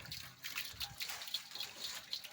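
Water splashes and trickles while a black pig is bathed on a hot day, with its back being scrubbed; a steady wet pouring sound runs throughout with repeated short splashy bursts, fairly close.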